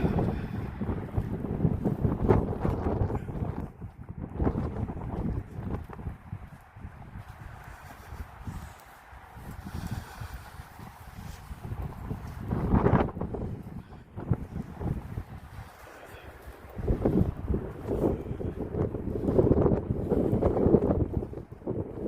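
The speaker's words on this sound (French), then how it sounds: "Le vent qu'il y a, il y a un vent incroyable." Strong gusting wind at Waterloo buffets the microphone in a loud, continuous roar, surging in several heavy bursts.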